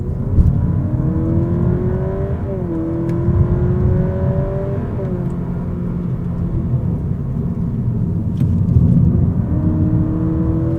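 A car engine hums steadily, its pitch climbing and dipping as it revs up and eases off, heard from inside the car with no talking.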